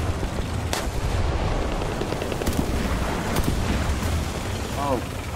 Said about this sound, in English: Oh, bombs.